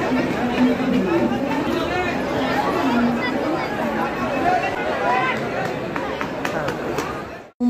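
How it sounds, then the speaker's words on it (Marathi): A crowd rushing on a busy Mumbai local train station platform, a continuous close babble of many voices and shuffling footsteps with people talking throughout. "मुंबई म्हटलं की अशा प्रकारची गर्दी आणि अशा प्रकारची धावपळ असणारच"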